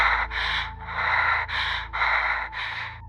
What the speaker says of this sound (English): A slow, uneven rhythm, breathing.